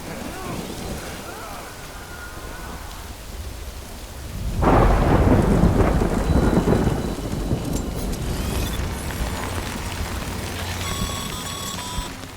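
Heavy rain in the video game Death Stranding pours steadily while a loud thunderclap bursts in midway and rumbles on, followed by faint electronic tones; no talk.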